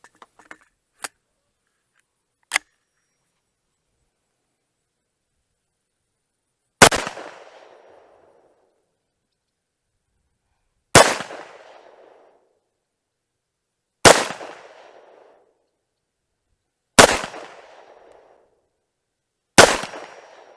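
Rifle shots from a Tommybuilt T7 chambered in 4.6 mm, firing cheap 40 grain bullets at 1900 feet per second. A few faint clicks come first, then five loud, widely spaced reports, each trailing off into an echoing decay.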